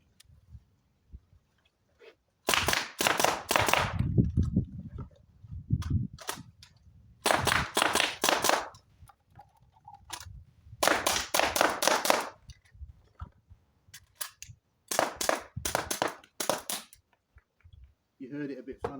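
Air rifle and gas-operated pistol, with the pistol's gas running low, fire sharp snapping shots in quick clusters during an El Presidente shooting drill, separated by short pauses for reloads and target changes.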